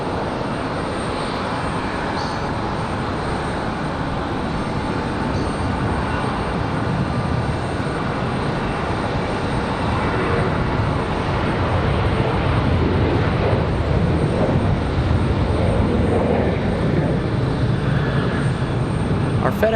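A jet airliner rolls or passes at Raleigh-Durham International Airport, a broad steady engine roar held at moderate distance for about twenty seconds, swelling slightly louder toward the end, with no talk over it.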